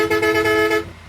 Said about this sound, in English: First horn. Second horn.